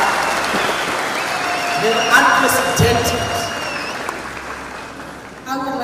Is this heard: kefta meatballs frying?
no